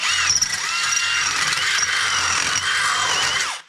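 A power drill whines steadily at high speed for a few seconds, grinding through metal to enlarge holes during an 8.1L engine swap on a GMT400 truck, before spinning down at the end.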